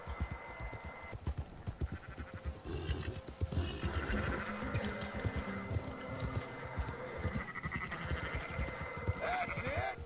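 Sheep in the game Red Dead Redemption 2 bleat repeatedly, several overlapping calls over hoof clip-clop and ambient game sounds, fairly close and clear, with occasional speech mixed in.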